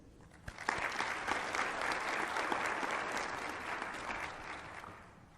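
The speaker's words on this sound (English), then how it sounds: "Please join me in giving a final round of applause to express our appreciation for the work of these important leaders in science and diplomacy." Audience applause at a science and diplomacy general meeting in Rwanda, a full, steady round of clapping that swells quickly after a few opening claps and fades gently at the end.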